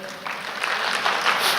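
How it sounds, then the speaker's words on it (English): Audience at a Microsoft leadership event breaks into steady applause, a broad wash of many hands clapping that swells slightly and holds to the end. "just applaud so I know I'm on the right track"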